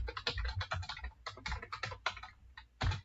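Quiet, close typing on a computer keyboard, a quick irregular run of light key clicks with a short pause and a final heavier tap.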